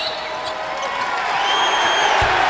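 Basketball arena crowd at a Southwest Missouri State home game roars and cheers after a basket, a broad swelling wash of noise that grows louder, with a short sharp thud near the end.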